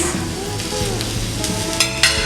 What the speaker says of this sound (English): Look at the sizzling sound.